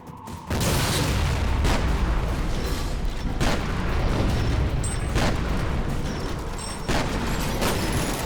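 A grenade blast in the first-person shooter F.E.A.R. Perseus Mandate erupts loud and close, leaving a long roaring rumble with repeated thuds of combat gunfire beneath it and no talk.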